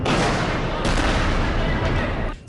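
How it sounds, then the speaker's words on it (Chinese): Rocket interceptions by the Iron Dome system over Ashkelon send booms rolling across the sky, heard as a continuous loud, rumbling barrage with a sharper burst near the end. "在城市的上空还频繁地传出这个爆炸的声音"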